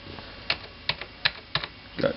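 Someone types a password on a computer keyboard of an old Pentium III machine running Windows 95: five or six separate key clicks spaced at a slow, irregular rhythm, close and fairly quiet.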